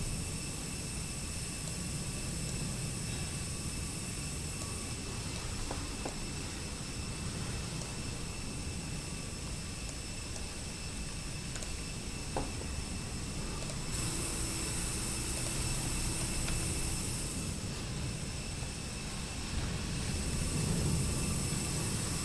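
Steady, loud roar of Fenix A320 jet engines in Microsoft Flight Simulator, a broad continuous drone with a faint whine above it, holding for over twenty seconds.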